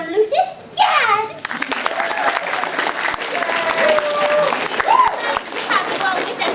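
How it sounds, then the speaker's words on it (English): At an anime convention panel, an audience claps and cheers for a guest, the applause rising after a brief burst of speech and continuing under an amplified voice and excited shouts. "please give a big round of applause to our special guest, John's very own Lucis, Jade."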